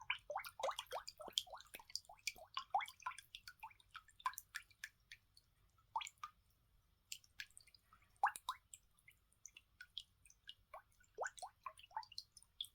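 A coin rinsed in a tub of water gives quiet drips, splashes and small squishy sloshes, irregular and close, with soft pauses between bursts.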